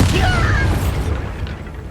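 A Bombarda spell blast in the wizarding game Hogwarts Legacy lands as a loud, booming burst that rolls and fades over about two seconds, with debris-like crackle in the tail.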